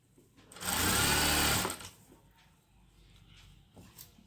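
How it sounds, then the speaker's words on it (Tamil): A sewing machine stitching the fall onto a saree, one loud whirring run of about a second, then quiet handling sounds and faint clicks, close up with no voices. "நீங்கள் அழகாக ஃபோல்ட் பண்ணி ஸ்டிச் பண்ணுறேன்."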